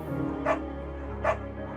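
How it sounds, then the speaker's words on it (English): Two sharp barks from Bucket, the dog in the video game Firewatch, spaced just under a second apart over a steady low bed of ambient game sound. "Bucket's a good dog."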